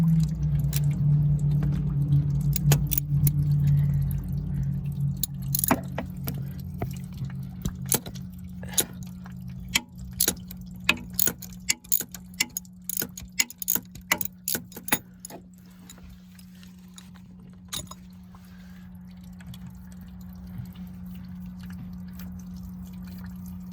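Water drains from the engine drain plug of a 1980 Ski Nautique boat during winterization, with scattered close drips and splashes over a low steady hum, thinning to quieter trickling toward the end.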